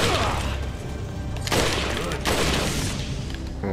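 A grenade blast in Resident Evil 4 lands as a dense burst of booming detonation noise, followed by further rumbling bursts and crackling impacts over roughly four seconds, loud and close.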